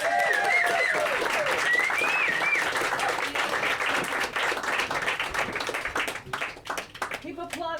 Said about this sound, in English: Keep applauding